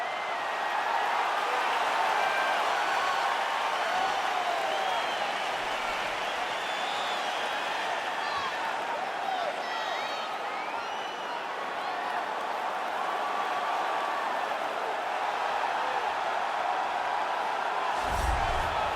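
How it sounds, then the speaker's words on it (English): An arena crowd in the UFC 4 video game cheers and roars steadily before a bantamweight title fight, a dense, continuous crowd noise with scattered claps. "Crowd going crazy."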